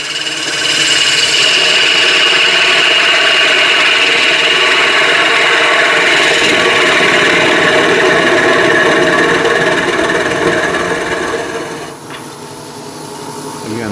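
Wood lathe spinning a bowl blank while a spindle gouge cuts, a loud sustained whirring hiss with tonal hum, steady for most of the time before easing off near the end.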